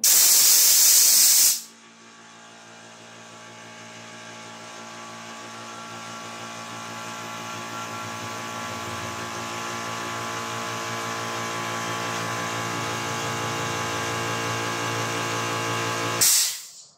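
An 8-liter air compressor under test, starting with a loud sharp hiss burst, then a steady motor drone with a rising tonal hum that builds for about fifteen seconds, ending in another brief hiss.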